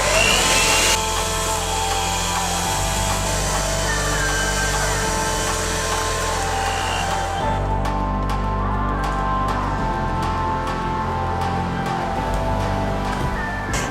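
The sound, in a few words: electric hand mixer whisking Swiss meringue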